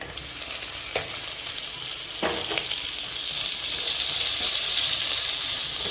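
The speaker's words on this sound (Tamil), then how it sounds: "வெங்காயம் நல்லா வதங்கட்டும் வெங்காயம் நல்லா வதங்கணும்" Onions frying in a pan for chicken gravy make a continuous sizzle with a few sharp stirring scrapes, the hiss swelling louder in the second half.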